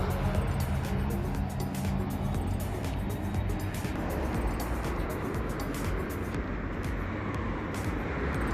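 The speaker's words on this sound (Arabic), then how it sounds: "وهي اجا الباص" A bus pulls up at a seaside tourist town, its broad engine rumble and road noise steady and fairly close for several seconds, with no talk over it.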